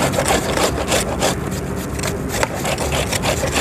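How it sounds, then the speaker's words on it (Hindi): Carrots are peeled at night for gajar ka halwa, giving continuous close rough scraping strokes that repeat rapidly without pause. "काबले के साथ जी गाजरें छीली जा रही हैं"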